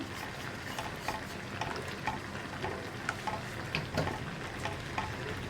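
Thickening milk for green gram payasam, with cardamom powder added, is stirred in a pot: a soft, steady bubbling simmer with light, irregular stirring clicks and scrapes throughout.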